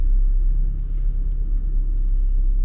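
A car driving on a road in Hastings gives a steady, loud low rumble from inside the cabin, continuous and without speech.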